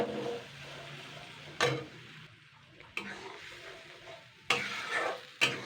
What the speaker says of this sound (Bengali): একটু নাড়াচাড়া করে নেবো এইবারে